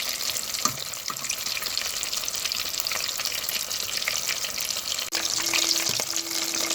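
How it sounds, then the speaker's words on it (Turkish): Oil sizzles and crackles steadily as rice balls (arancini) deep-fry, a dense, continuous hiss with occasional small pops and a brief clatter near the end. "Pirinç toplarımızı bu şekilde her tarafı kızarana kadar çevirerek kızartıyoruz."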